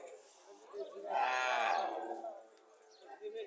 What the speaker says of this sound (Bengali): এখানে একটা সার গরু দেখা যাইতেছে